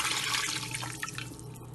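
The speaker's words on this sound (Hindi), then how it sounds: "पहले तो हम इसमें 1 लीटर पानी डालेंगे।" One litre of water poured into a cooking pot holding beef trotters for paya gives a close, steady splashing gush that thins and softens toward the end.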